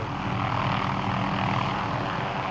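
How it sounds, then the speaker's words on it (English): A helicopter used to capture mule deer at Pine Canyon WMA roars overhead, its loud steady rotor and engine noise filling the whole span without pause. "biologists are using a helicopter to capture some 400 deer across the state"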